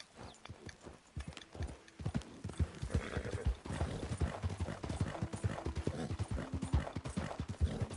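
Horse hooves clip-clopping steadily on ground in the Red Dead Redemption 2 video game, a continuous close rhythm of hoofbeats with an occasional whinny and no talk over it.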